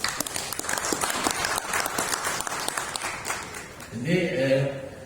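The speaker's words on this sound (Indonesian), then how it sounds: "Kita tepuk tangan untuk Pak Mujiano ya." Applause breaks out at an Indonesian health-equipment distribution training session. Steady clapping from the audience fills the room for several seconds, then a voice speaks near the end.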